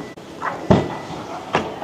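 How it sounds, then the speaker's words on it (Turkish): Two sharp thuds of a Kia EV3's manual trunk lid shutting, about a second apart, with a soft rattle between them. "Bagaj manuel, açılıp kapatılıyor."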